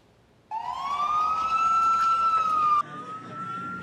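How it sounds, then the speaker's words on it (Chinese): A loud wailing fire truck siren rises and holds a long tone, then shifts pitch abruptly, passing close by with traffic noise beneath. "消防车一台一台出动"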